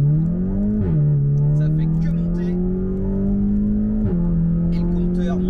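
A Volkswagen Golf 7 GTI TCR Edition with stage 2 tuning accelerating hard on the road, loud steady engine drone rising in pitch through the gears with two quick shift dips, heard from inside the car.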